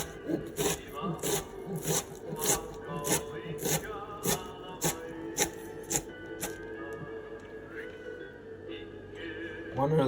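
Sharp knife strokes dice stacked julienned onion on a wooden board, a quick run of close, crisp chops in steady rhythm with light scraping.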